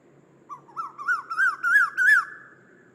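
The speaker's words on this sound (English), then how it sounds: "This is called the Asian quail." An Asian quail gives a short series of about six clear whistled notes, each a little louder than the one before, against a quiet dawn background.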